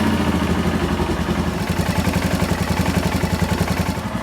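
A Royal Enfield Himalayan motorcycle engine starts up and settles into a close, loud idle with a fast steady chugging pulse and a light rhythmic tapping after a valve check and adjustment.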